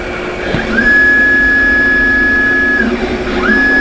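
A CNC machine under an Acorn controller restarts its program after a feed hold: a steady loud motor drone carries a high whine that sweeps up, holds, drops, then rises again, like a spindle or axis motor spinning back up.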